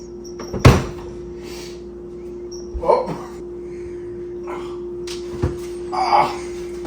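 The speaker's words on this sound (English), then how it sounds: "And now I'm gonna grab the air fryer." A heavy air fryer is lifted out and set down in a kitchen while an oven preheats: one loud, close thud early on, then a few softer knocks and rattles spaced over several seconds, over a steady low appliance hum.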